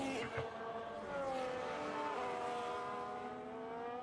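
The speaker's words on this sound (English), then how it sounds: "Love the sound of this RB engine." An RB race car engine in a sim racing game drones with a high, steady whine under a commentator's voice as it shifts pitch gradually, with other cars faintly around it.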